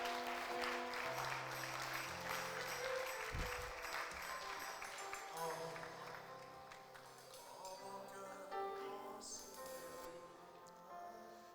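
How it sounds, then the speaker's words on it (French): A church congregation applauds to welcome a newborn baby, clapping spread through the room alongside sustained choir or organ-like tones and a voice, the applause fairly soft and gradually easing. "Est-ce qu'on peut recevoir ce bébé avec acclamation?"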